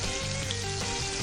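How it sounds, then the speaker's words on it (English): Butter sizzles and fries in a pan heated by strong sun outdoors, a steady close crackling hiss with no break and no voices. "Look, it's melting that butter already."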